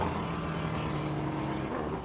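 A rally raid car's engine drones steadily at the Simola Hill Climb, a fairly distant, sustained low hum with a faint tonal whine and no voices over it.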